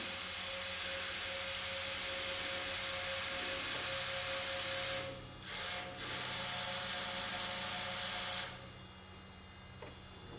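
An electric trim motor in an Avid Flyer aircraft whirs with a steady, close, high-pitched mechanical whine. It dips briefly twice in the middle, then the upper whine cuts off near the end, leaving a lower hum.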